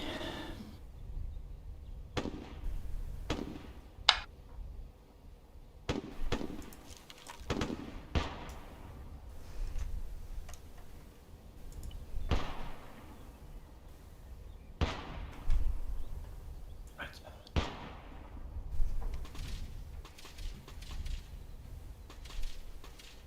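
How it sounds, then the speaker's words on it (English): Howitzer shells from Arma 3 explode at a distance in a series of sharp, separate thuds and cracks, each followed by a short rumbling decay, spread irregularly across a quiet background with no talk. "Just for you to hear the new explosion effects as well. Howitzers going out towards the east on top of the mountain."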